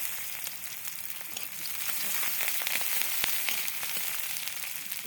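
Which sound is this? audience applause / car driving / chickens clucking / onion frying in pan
onion frying in pan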